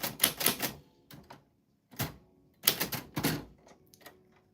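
Mechanical typewriter keys clacking in short bursts, close and crisp, with brief pauses between groups of strikes and no talking during the typing.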